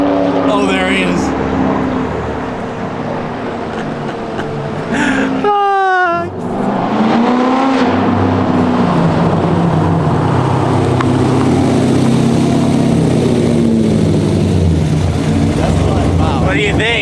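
Straight-piped Corvette Z06 approaching from a distance then idling nearby, a loud continuous engine rumble with a brief rev swell, under steady conversation.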